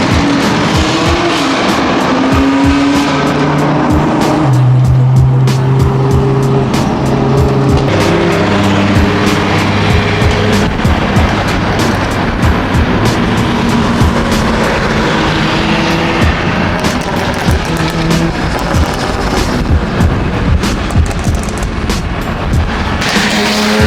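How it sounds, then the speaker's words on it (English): Several loud turbocharged performance cars, including BMW M3 models such as the F80 and G80, an AMG and a GTR, rumble and rev close by, with engine tones rising and falling and continuous gritty crackle throughout. "The turbos are hella loud."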